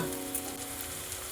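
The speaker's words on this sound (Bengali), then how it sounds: "পেঁয়াজ আদা ক্যাপসিকাম ভালো করে ভাজা হয়ে গেছে" Onion, ginger and capsicum frying in a pan, giving a steady, close sizzle that stays loud and even throughout with no voices.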